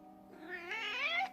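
A recorded cat lets out a single drawn-out meow, rising and wavering in pitch, fairly faint but clear against a quiet background.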